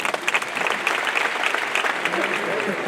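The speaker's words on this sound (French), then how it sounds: "Et je voudrais qu'on acclame le Brésil." A crowd at a livestock show opening ceremony applauds to cheer Brazil, with dense continuous clapping throughout and a voice faintly audible beneath it.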